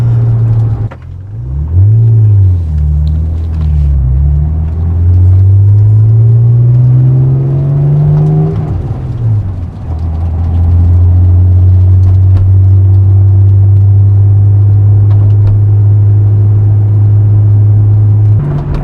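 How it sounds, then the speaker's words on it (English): Honda NSX V6 engine revving while driving, loud and close, climbing through gears in long rising sweeps, dipping, then settling into a steady strong drone. "I was quite shocked by how good the motor sounds, considering it's a Honda V6"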